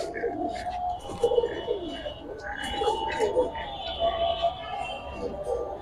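Giribaz pigeons coo repeatedly in soft, throaty bursts at close range, with faint chirps and background voices mixed in.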